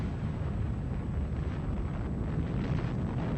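A deep, continuous roar and rumble from the test of a MOAB, the aluminum-skinned Massive Ordnance Airburst bomb, at Eglin Air Force Base in Florida, loud and wind-buffeted with no voices.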